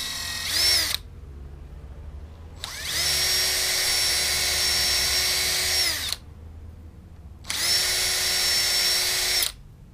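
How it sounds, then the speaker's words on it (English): A power drill pre-drilling holes in a wooden board whirs in three bursts, a short one and then two longer ones, with quiet pauses between them. "Pre-drilling the marked holes."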